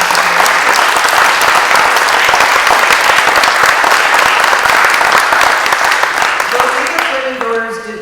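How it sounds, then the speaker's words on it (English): Audience applause at a city council candidate forum in Saugatuck, a dense, steady roar of many hands clapping that fades out near the end while a voice begins speaking. "right now would be a nice time to give everybody a round of applause"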